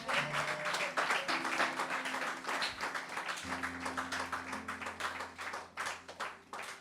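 Church congregation applauding to acclaim Jesus during a French-language sermon, a steady wash of many hands clapping under sustained organ or keyboard tones, fairly loud and continuous throughout.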